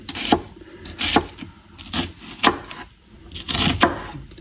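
A knife slices a shallot on a wooden cutting board, giving soft rhythmic cuts and scrapes about once a second, close and fairly quiet, with no talking.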